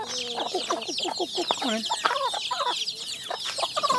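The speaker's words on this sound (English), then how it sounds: "Time to feed the chickens." Chickens on a farm in Udon Thani cluck and squawk busily at feeding time, a dense flock of overlapping calls close by, with a person speaking briefly among them.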